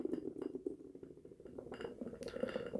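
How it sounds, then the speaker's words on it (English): Southern Tier Nitro Hot Cocoa, a nitro beer, is hard-poured from a freshly opened can into a glass, giving quiet close splashing and glassy clinks with no talk. "we're going to give it the hard pour into the left-hand glass"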